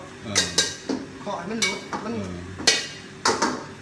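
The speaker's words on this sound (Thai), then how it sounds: "เฮ็ดเมนูหยังก็ต้องมีเสียงกระทะเพราะมันเป็นเอกลักษณ์ของเชฟกระทะดังพี่น้อง" A metal spatula clangs and scrapes against a wok while stir-frying rice at a street kitchen in Vientiane, Laos, with several sharp bright strikes in an irregular rhythm, close and loud, with a short spoken phrase among them.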